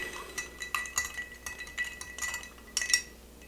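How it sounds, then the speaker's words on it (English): A quick stir of an Old Fashioned cocktail in a glass, with a run of light, close clinks and taps from spoon and ice over a few seconds. "what we'll do is we'll do a quick stir"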